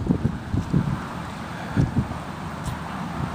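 Gusting wind buffets the microphone outdoors while a radio-controlled A-10 Warthog model flies, a steady low rumble with several stronger blasts surging up and falling back, loud and close throughout, with no talk.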